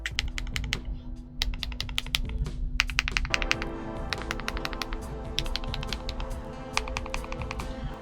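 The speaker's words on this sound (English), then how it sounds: "this has got to be one of the better sounding low profile keyboards" Clacky keystrokes on a NuPhy Air75 V3 low-profile mechanical keyboard, typed in quick irregular bursts with short pauses, close and clear over a steady low hum.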